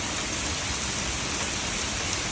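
Heavy rain pours during a severe thunderstorm in central eastern Missouri, a dense, constant roaring hiss of downpour with no talk.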